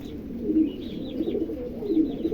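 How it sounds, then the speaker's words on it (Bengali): House pigeons coo softly and continuously nearby, low rolling murmurs repeating with no pause. "এখানে একজোড়া হাউস পিজন আছে, দেখেন চমৎকার একজোড়া হাউস পিজন"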